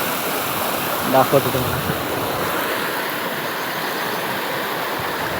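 Stream flowing through bushes outdoors, a steady broadband rush of water with wind noise, while someone talks briefly over it near the start.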